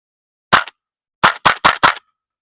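An APFG MPX airsoft gun fired on semi-auto lets off one sharp crack followed by a quick string of four close shots, each a crisp snap against silence.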